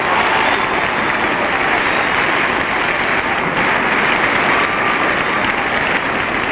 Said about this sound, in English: The crowd certainly liked Richard Krim's performance from Evanston High School.